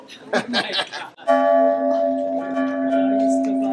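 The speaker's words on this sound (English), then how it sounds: "I'm going to ring the bell." A single loud strike of the bell at San Miguel Church rings out close by and leaves a long, steady, humming tone that fades slowly, with laughing voices just before it.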